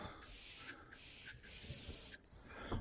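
An aerosol can of lubricant is sprayed onto a fishing rod guide ring in three steady hissing bursts, close and loud, with brief gaps between them.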